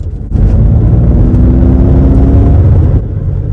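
A Ford Mustang Mach-E electric car's quiet propulsion sound, a steady low hum and whir, rises in and holds for a few seconds before easing off, with no voices.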